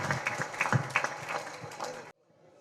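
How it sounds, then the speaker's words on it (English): Clapping from a crowd at a political party gathering rises in brief uneven bursts for about two seconds, then cuts off abruptly, leaving near silence. "A round of applause for him, please."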